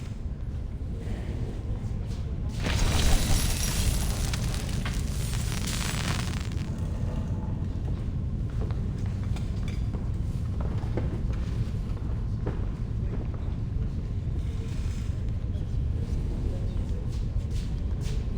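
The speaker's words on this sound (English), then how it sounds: "See, I can even put on my fireworks show again." Fireworks show in the video game Reverse: 1999, with a big burst followed by a dense, continuous rumble of crackling explosions, loud and sustained.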